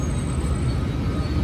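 A Metro train in Washington, D.C. runs on rails, giving a continuous low rumble and rolling wheel noise, steady and close, with no voices.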